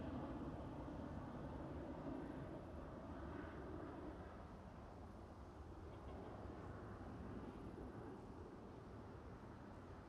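A Boeing 737-700 at Amsterdam Schiphol airport gives a steady distant low jet-engine roar with wind rumble, holding fairly even across the whole stretch.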